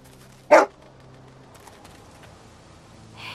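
A dog in The Walking Dead video game gives a single sharp bark, near and clear, followed by quiet game ambience.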